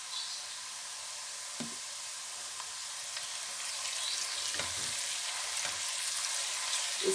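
Finely chopped garlic frying in a pot for chicken biryani, a soft continuous sizzle with faint stirring scrapes and small clicks, fairly quiet and close, with no talk.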